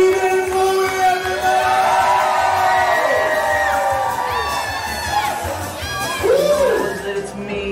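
Wedding guests on a dance floor cheer and whoop for the newly introduced bride and groom, a lively crowd of shouts and high calls with voices and music-like tones rising through it.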